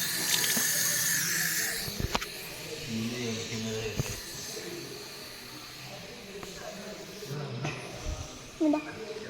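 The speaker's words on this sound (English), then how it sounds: "So water will be coming, guys." Water runs from a tap with a continuous hiss and splash in Tirupati, while people talk nearby and a few knocks and clatters sound.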